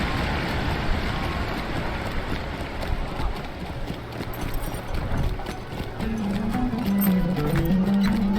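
Horse hooves clip-clopping in the online game Lord of the Rings Online, a steady dense patter of hoofbeats running throughout, with a faint tonal game sound rising near the end.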